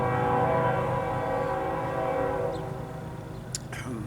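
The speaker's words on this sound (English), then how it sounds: "there's the Canadian National Railroad arriving." A Canadian National Railroad train arrives in Louisiana, sounding a loud, sustained multi-tone horn that holds steady and then slowly fades as the train rumbles on, with a few faint short sounds near the end.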